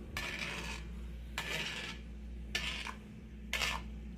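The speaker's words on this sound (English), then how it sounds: "Gonna stir it in there." Stirring food in a pot on a stove at a medium-low simmer: four separate scraping, rasping sweeps of a utensil against the pot, heard close over a steady low hum.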